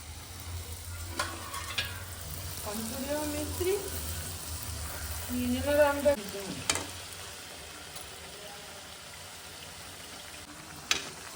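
Puris for panipuri fry in oil with a faint, steady sizzle and occasional stirring scrapes, while voices talk quietly over the cooking.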